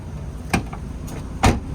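Rear door of a 2017 Perodua Alza 1.5 AV, an MPV, thudding shut: one lighter knock, then a louder, firmer slam about a second later, close by against a low background hum.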